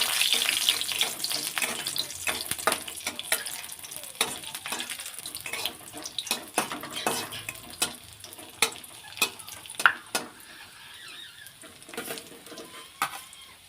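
Two dried red chillies and four garlic cloves frying in hot oil in a home kitchen, a steady close sizzle broken by sharp crackles and pops, with occasional stirring clatter and no voices.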